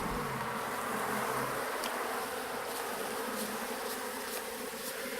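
Agitated honey bees fly around an open hive during a spring hive inspection, making a steady, dense buzzing drone with no voices.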